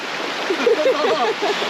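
Sea water washes steadily around a man wading knee-deep off the West Pomeranian coast, a continuous close rushing of shallow surf with people talking and laughing over it.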